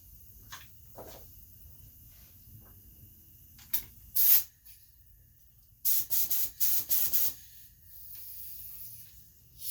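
A spray gun lays clear coat onto a boat in several short hissing bursts, close and fairly loud, separated by quiet pauses with faint background noise.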